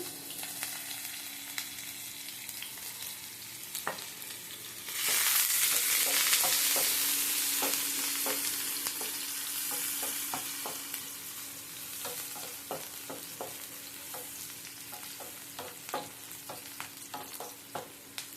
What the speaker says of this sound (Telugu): ఫ్రెండ్స్, నూనె వేడెక్కింది. ఎర్రగడ్డలు వేస్తున్నాను.